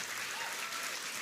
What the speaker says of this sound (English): can we just give another round of applause to the President of the United States